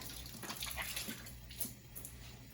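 Water runs from a tap as hands are rinsed clean of soap, a steady, fairly faint broadband wash with small splashes and drips, alone with no talk.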